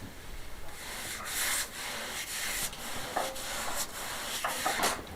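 Wooden table legs being sanded by hand, giving a steady close rasping rub in repeated strokes with short pauses between passes, and no voices.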